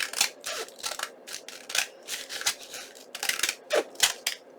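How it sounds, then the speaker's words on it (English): Scissors cutting through a recycled padded envelope along a line, a close series of crisp, crunchy snips in an uneven rhythm. "So cutting along my line"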